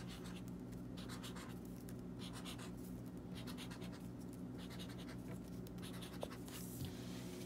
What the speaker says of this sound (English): I'm going to do some squiggly lines there. And I'm going to do some polka dots on this sheet of paper.